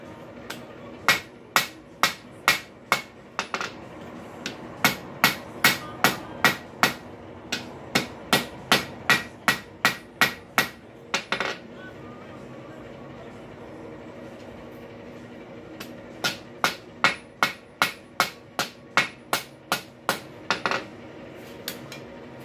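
A hammer strikes a rail spike hinge on an anvil in steady, ringing metallic blows, loud and close, falling in long rhythmic runs split by short pauses.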